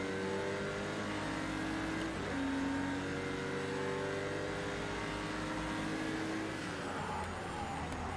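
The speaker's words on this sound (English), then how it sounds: "I do like the sound of the Cayman." Porsche Cayman GT4 race car engine in Project Cars 2, a steady loud droning engine note with layered harmonics that holds and shifts pitch slightly as the car accelerates, heard alone without talk.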